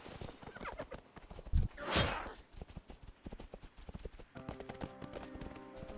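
Horse hooves clip-clop in rapid rhythm in World of Warcraft, with a brief whinny and a whoosh partway through before the hoofbeats carry on, close and steady.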